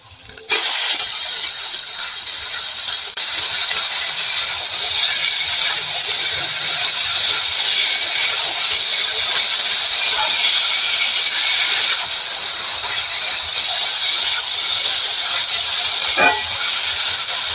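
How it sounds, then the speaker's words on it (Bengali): Taro stems tip into a pan of fried onions and set off a loud, steady sizzling hiss that begins abruptly and holds evenly to the end, with a brief stir near the close. "আমার পেঁয়াজটা ভাজা হয়ে গেছে এবার আমি দিয়ে দেব কচু"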